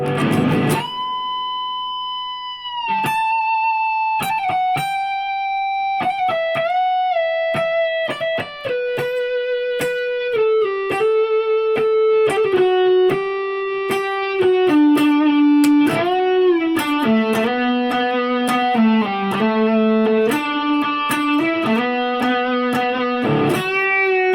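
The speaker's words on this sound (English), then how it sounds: "let me try it with full distortion now" An electric guitar plays with full distortion, a run of sustained, heavily overdriven notes stepping downward one after another, then a denser stretch of chords near the end.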